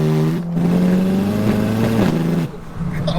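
A 900bhp front-wheel-drive Seat Leon Cupra engine revs loudly and close by, holding a steady droning pitch that steps up briefly before dropping off near the end, with a voice audible in the background.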